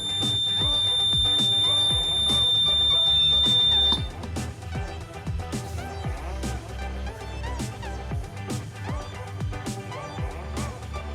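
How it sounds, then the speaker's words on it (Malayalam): A digital locker's alarm after a wrong code attempt: a loud, continuous high electronic tone for about four seconds, then repeated sharp beeping pulses at an even rhythm, with no talking. "അതും തെറ്റാണെങ്കിൽ അലാം അടിക്കുകയും ചെയ്യും."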